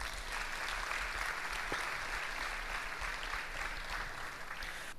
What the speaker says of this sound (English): I would like you to give yourself a round of applause.